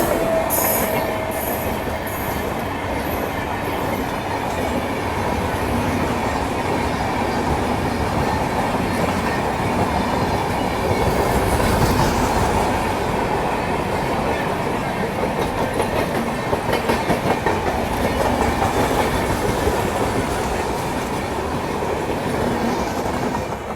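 Saraighat Superfast Express running on rails near Malda Town, with a steady rolling roar and continuous clickety-clack of wheels over joints, loud and close throughout, with faint wheel squeal at moments.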